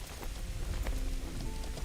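Steady rain patters in the online game Mortal Online 2, a dense continuous hiss of drops with faint tonal hints, loud and unbroken, with no voices.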